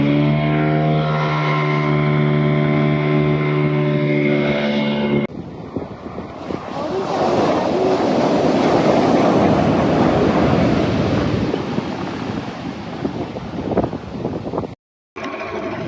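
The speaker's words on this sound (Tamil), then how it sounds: "இன்றைக்கி கடலில் கொஞ்சம் அலையும் கொஞ்சம் அதிகமான சீற்றம்" Rough, heavy sea surf pounds the coast at Manappadu, a loud continuous roar of breaking waves that dominates after a brief engine-like drone at the start, with a momentary dropout near the end.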